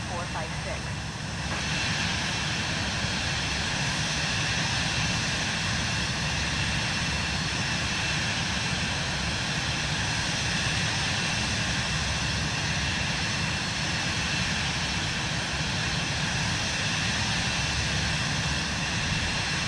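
Vision Jet G2 taking off in Microsoft Flight Simulator 2024, a steady loud jet engine roar that holds constant throughout, with a voice speaking over it.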